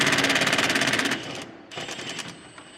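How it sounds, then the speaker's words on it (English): A grease gun pumping grease into the grease points of a combine being prepared for harvest, a fast, rapid rattling burst followed by a shorter, quieter run of clicks, close and alone. "give them a couple shots of grease here"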